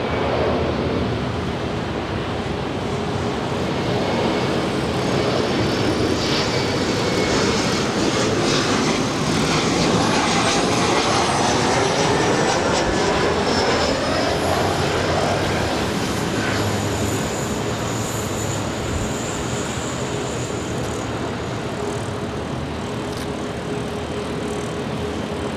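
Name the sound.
Emirates Airbus A380-800 jet departing LAX for Dubai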